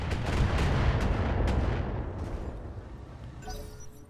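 Heavy AC-10 autocannon fire in the Battletech video game: a loud, booming roar that rumbles steadily and slowly fades over a few seconds, with a faint metallic ringing toward the end.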